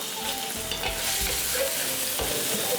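Minced garlic sizzles in hot oil in a pan for Cambodian seafood stir-fried noodles, a steady close crackle with occasional scraping stir strokes throughout and no voices.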